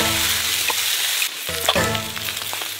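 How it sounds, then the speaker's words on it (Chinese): Pork belly stir-fried in a hot oiled wok, giving a loud, steady sizzle and crackle with a brief stirring scrape partway through, close by and without voices. "把这五花肉弄过去炒一半熟"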